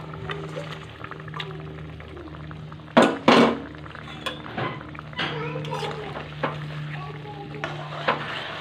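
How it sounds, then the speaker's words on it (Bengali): Bhetki fish curry broth with potatoes bubbling in a pot, a low steady boil with a pour of liquid and a few clanks of a spoon against the pan partway through. "ঝোলটা দরবার করে ফুটতে শুরু করেছে"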